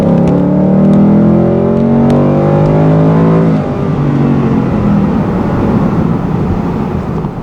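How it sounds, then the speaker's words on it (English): A 2018 Ford Mustang GT automatic is floored from 40 mph, its V8 roaring loud and close as revs climb steadily, then dropping briefly at an upshift before pulling hard again. "So I'm gonna just floor it from 40 and watch what happens."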